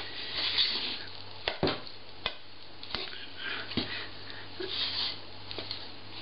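A spatula works oil into focaccia dough in a bowl, giving soft, sticky squelches and scattered light clicks against the bowl at an irregular pace.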